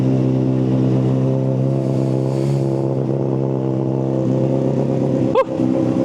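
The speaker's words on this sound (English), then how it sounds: "let's get a quick cold start on this beauty" A vehicle engine on a cold start, running a little rich, holds a loud, steady, deep idle throughout, with a brief sharp rising chirp near the end.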